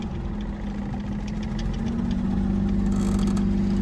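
A cheap auction car's engine idles roughly after being started with ether, a steady low rumble with an uneven, knocking pulse and faint rattles, heard alone without talk.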